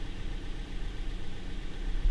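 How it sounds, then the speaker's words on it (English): A Toyota Yaris with a 1ZZ engine idles steadily just under 1000 RPM after a throttle body swap, a low continuous rumble held at an even level throughout, with no talk over it. "It's idling nicely,"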